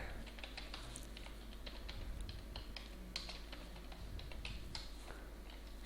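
Steady, fairly quiet tapping on a computer keyboard as code is entered, a continuous run of soft key clicks over low background hum, with no talk.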